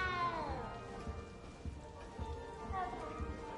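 Cat meowing in a Harry Potter video game: a few drawn-out meows, one at the start and another near the end, faint over a steady patter like rain, with some background voice.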